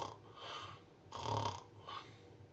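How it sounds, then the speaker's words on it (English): A sleeping person snores during an overnight sleep study, three rasping, rattling inhalations with short quiet gaps between them, close and fairly soft. "a person is breathing in and snoring"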